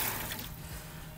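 Water splashing and pouring into a bucket outdoors on the Gold Coast during a fishing trip, a soft, steady rush heard alone for about a second.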